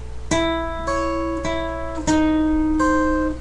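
Guitar playing a sixths turnaround, with a handful of clean two-note shapes picked one after another and left to ring, close and fairly quiet with no talking.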